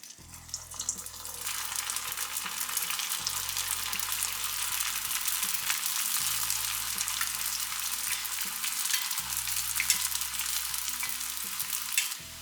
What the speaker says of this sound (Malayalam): എന്നിട്ട് നമുക്ക് ഓരോന്നായിട്ട് ഇതിലേക്ക് ഇട്ട് ഫ്രൈ ചെയ്യാം.